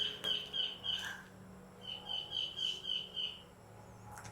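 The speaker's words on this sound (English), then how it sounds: "I love the sounds of the birds here on the farm." Birds singing on a farm: two bursts of rapid, repeated high chirps, each a quick run of five or six notes, fairly close over quiet outdoor background, with no talking.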